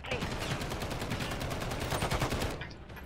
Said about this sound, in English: Gun fire.